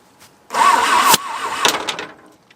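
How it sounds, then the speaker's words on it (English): An 80-year-old abandoned Jeep's engine cranks over with a rhythmic whirring starter for about a second, then sputters briefly and dies away, heard up close and loud. "it might be time to see the engine spins"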